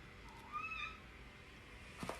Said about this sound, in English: My cats are crying.